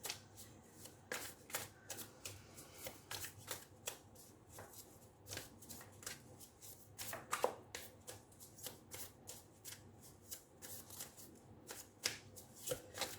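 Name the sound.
shuffling Light Seers Tarot cards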